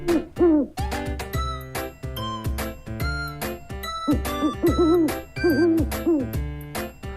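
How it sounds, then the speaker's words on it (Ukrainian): Several owl hoots repeat over a bouncy background of chiming, bell-like music. "Сова каже пугу,"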